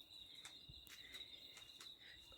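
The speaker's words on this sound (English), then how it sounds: "It is just like 100 billion crickets." A steady, high-pitched chorus of many crickets trills continuously in the background in Portugal in October, with faint soft scuffs over it.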